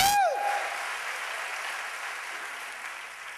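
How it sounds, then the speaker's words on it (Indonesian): A church congregation claps together in sustained applause, loud and steady after a brief tonal swell at the start, fading slightly as it continues. "Berikan tepuk tangan bagi Allah kita."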